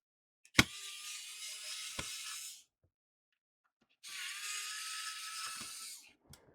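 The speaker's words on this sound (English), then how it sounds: "I am really surprised by this little screwdriver, that this thing works so well" A small, cheap electric screwdriver whirs in two bursts of about two seconds each, close and steady, with a few sharp clicks and knocks between and after the runs; no talk.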